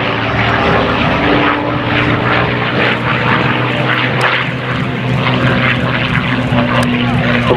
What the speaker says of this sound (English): this Mustang